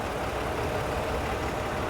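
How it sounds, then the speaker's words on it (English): A low, steady diesel engine of a 2025 Chevy Suburban Z71 idles with a rough, knocking clatter, close by and continuous. "I can hear a little of the clatter of that motor"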